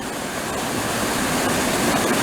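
Red Creek rushes over rocks in a steady, loud, broadband wash of flowing water, close by and unbroken.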